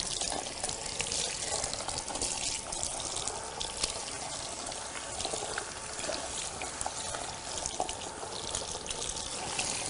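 Tap water runs steadily while hair is rinsed during a colouring and retouch service, a continuous soft splashing and trickling at close range with no talking.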